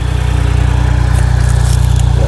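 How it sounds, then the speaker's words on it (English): A 2026 CFMOTO U10 PRO XL side-by-side runs its 998cc liquid-cooled three-cylinder engine close by, giving a loud, steady, evenly pulsing idle. "So this is a 3-cylinder engine, liquid cooled."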